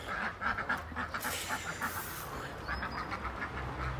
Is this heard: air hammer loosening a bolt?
no